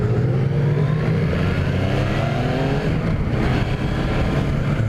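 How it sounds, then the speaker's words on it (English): A 2017 Yamaha FZ-09 motorcycle under way, its engine a loud, steady, close drone with a continuous rumbling growl and no speech. "Get out of first gear. It's pretty smooth in first gear."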